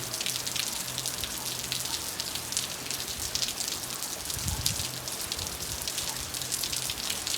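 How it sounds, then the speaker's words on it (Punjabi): Heavy rain pours down in a steady, dense hiss, with drops pattering on nearby surfaces and a low rumble now and then. "ਕਾਫੀ ਮੋਟੀ ਕਣੀ ਪੈ ਰਹੀ ਹੈ ਬਾਰਿਸ਼ ਦੀ"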